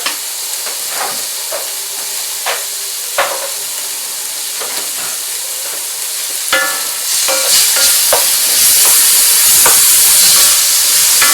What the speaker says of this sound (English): get to a point where the onions are nice and glazed over, get all that sugar coming in